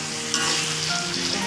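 Tomato spice paste frying and being stirred in a pan for homemade kapurung: a dense, continuous close sizzle with scraping stir strokes, no voices.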